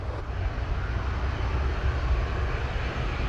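Sunwing airliner entering runway 25 at Montego Bay, Jamaica: a steady, loud low engine rumble fills the whole stretch without a break, with broadband roar and some wind buffeting on the microphone.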